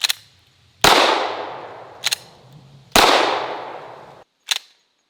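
Revolver fired at an outdoor shooting range: five sharp shots in an uneven rhythm, with the two loudest each trailing into a long decaying echo and the others shorter, close and loud with no talking.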